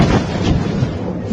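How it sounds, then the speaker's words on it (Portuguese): A distant missile explosion in wartime Ukraine rolls out as a deep, sustained rumble with a low booming swell, loud and unbroken throughout. "repara que tem uma explosão primeiro, que deve ter sido míssil, e aí depois a segunda explosão"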